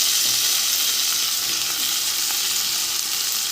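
Ginger-garlic paste and ground spices fry in a pan, a steady, close hiss of sizzling oil running unbroken throughout with faint stirring scrapes.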